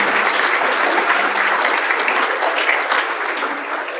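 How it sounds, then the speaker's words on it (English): Sustained, dense audience applause fills a hall at the 2023 Oxnard State of the City address, loud and steady throughout before easing slightly at the end, with no voices over it. "Let's give a round of applause to Visit Oxnard for doing a great job on this video."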